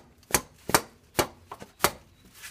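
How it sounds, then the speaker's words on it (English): Mallet whacks a transmission part on a 1996-2000 Honda Civic automatic, five sharp, separate knocks spaced about half a second apart, close and fairly loud with quiet gaps between them. "I'm going to get my mallet. I'm going to give it a nice little whack here just to loosen it up a little bit."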